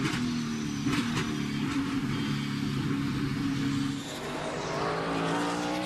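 A NASCAR stock car slows onto pit road during final practice on the Charlotte Roval, its engine note dropping and shifting with a brief tire scrub, loud and close, while other cars roar faintly in the background.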